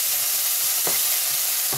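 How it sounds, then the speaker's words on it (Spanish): Vegetables for a soy bolognese sauce fry gently over lowered heat, giving a steady close sizzle and hiss with a couple of faint stirring touches. "Bajamos el fuego y dejamos que se poche esto"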